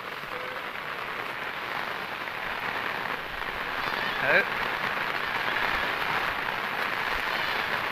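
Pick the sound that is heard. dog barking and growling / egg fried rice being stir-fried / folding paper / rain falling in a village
rain falling in a village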